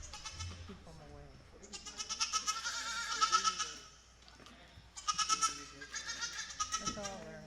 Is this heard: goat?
yes